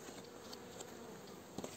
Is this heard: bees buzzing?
yes